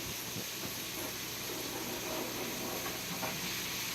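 Tempeh added to a hot pan, giving a steady loud hissing sizzle throughout, close up and with no talk.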